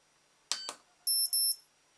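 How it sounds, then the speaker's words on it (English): An Elite-Tek ET-9898 remote dog training collar set to intensity 2 gives two short, sharp, high electronic beeps close by in a quiet room, following a brief click and rustle. "That time it gave me 2 beeps because it's set to intensity 2."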